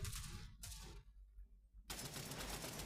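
Bursts of rapid gunfire in the video game World War Heroes, two short volleys then a longer sustained stream, loud and harsh.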